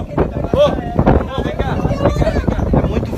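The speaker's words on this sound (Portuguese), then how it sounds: "É muito vento." Strong storm wind in Rio Grande do Sul gusts and buffets the microphone with loud, continuous roaring, while people talk and call out over it.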